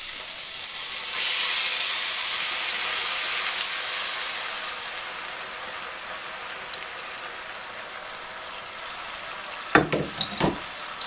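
Rice sears in hot olive oil in a pan, a steady bright sizzle that swells early and then eases, ending with a few clanks of a utensil stirring near the end; nobody speaks.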